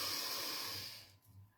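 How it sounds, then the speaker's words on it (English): A single deep inhalation drawn in close to the microphone during a guided healing meditation, a steady airy hiss lasting about a second before fading into quiet. "Breathing in, big deep breath."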